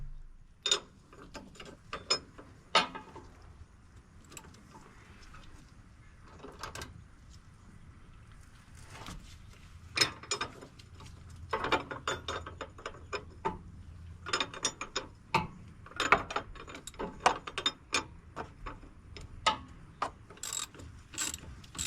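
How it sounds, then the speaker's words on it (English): Ratchet turning the shock shaft on a 2022 Ram 3500 air-ride truck, heard as faint, close, irregular bursts of clicking pawl strokes spread throughout, with quiet gaps between runs. "I can just use my ratchet to ratchet the shaft itself."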